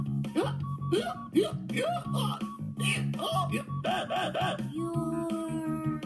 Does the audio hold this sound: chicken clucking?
no